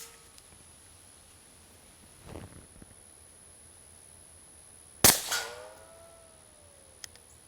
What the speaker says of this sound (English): now we're going to give it a shot with 5 rounds of 158 grain Super Vel